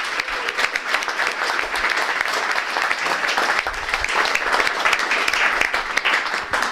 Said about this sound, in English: please a round of applause for these guys.